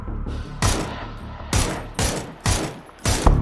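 Rapid gunfire bursts in PUBG, about five loud, sharp volleys spaced roughly half a second apart over a constant low background rumble, with no talking.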